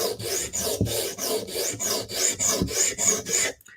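A Bestech Tanto knife blade drawn across a sharpening stone in repeated rhythmic strokes, about a dozen close, crisp scraping passes in steady succession before stopping, with no talking.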